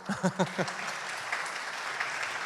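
Applause after a lecture at a talk, fairly quiet and distant, a few sharper claps at the start settling into a soft, steady patter.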